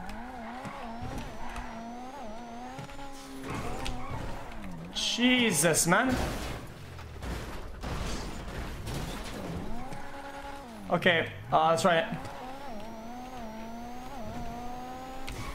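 A sports car's engine revs and roars in a roleplay driving game, pitch climbing and falling with bursts of acceleration and tire squeal, while people talk over it.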